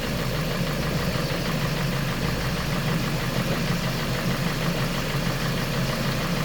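A car engine idles steadily while warming up during coolant system bleeding, a loud, continuous mid-to-low rumble that stays even and unbroken throughout, with no talk over it.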